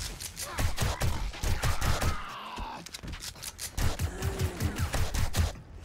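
Gunfire in the video game 7 Days to Die, played with the Darkness Falls mod in a wasteland at night, cracks out in dense, rapid bursts, loud and close, easing briefly before the shooting resumes.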